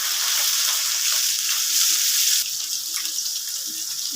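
Onion and garlic frying in oil in a pan: a bright, loud hiss of sizzling that dips slightly partway through and carries on steadily, with no voices.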